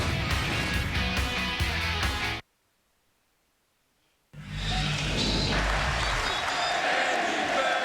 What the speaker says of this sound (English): They had an Andy Pettit cheer going when he left the game.